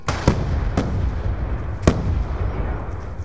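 Sticky grenade in Black Ops 2 multiplayer going off amid gunfire: a few sharp, loud blasts spaced about a second apart over a steady rumble of battle noise.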